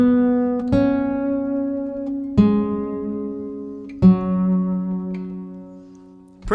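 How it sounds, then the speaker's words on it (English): Guitar lick from a worship song played a little faster: three clear plucked notes ringing out in a steady sequence, near and clean with no talking. "And a little faster sounds like this."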